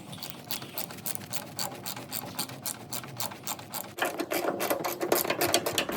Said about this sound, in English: just go back where you took off all the bolts and rebolt them on